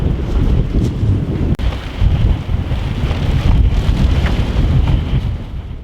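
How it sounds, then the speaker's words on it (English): Strong, gusty outdoor wind buffets the microphone in loud, continuous roaring waves with a brief dip partway through, alone with no voices. "We just got assaulted by some of the craziest winds, and then nothing."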